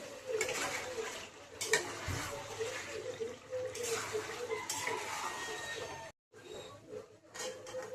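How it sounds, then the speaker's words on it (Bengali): Chicken pieces are stirred and fried in a pan during slow browning for a home curry, giving soft scraping and clattering spoon strokes with light frying noise, fairly quiet, broken by a brief silent gap. "আর মাংসটাকে ভালো করে কষিয়ে নেব কিছুক্ষণ।"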